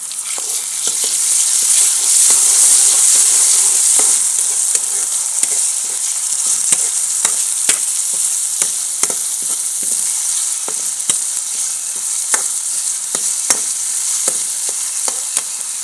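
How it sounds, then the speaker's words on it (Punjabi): Onion, green chili and tomato sizzling in an oil pan for veg noodles, a steady close frying hiss with a scattering of sharp stirring clicks and pops throughout. "ਲਓ ਆਪਣਾ ਗੰਢਾ ਭੁੱਜ ਗਿਆ ਹਰੀ ਮਿਰਚ ਤੇ ਆਪਾਂ ਟਮਾਟਰ ਪਾਵਾਂਗੇ"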